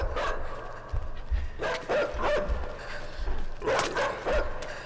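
In a horror video game, a dog barks in sharp repeated bursts with yelps and whimpers, fairly close and loud over a low rumbling background, with no talk over it.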